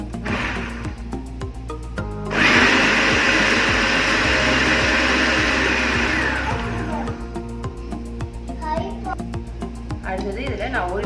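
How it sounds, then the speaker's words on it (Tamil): A blender grinds a falafel mixture in a loud, steady roar that starts abruptly and runs for several seconds before easing off, with a voice and household noise in the background. "அடுத்ததா நான் வந்து இதை கிரைண்ட் பண்ணிக்கலாம்."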